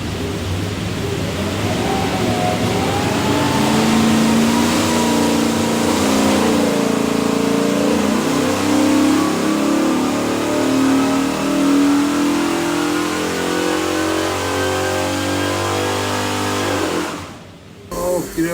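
A 408 stroker Ford V8 with a hydraulic roller cam runs hard on a dyno, its loud, close roar climbing steadily in pitch as it sweeps up through the revs before cutting off abruptly near the end.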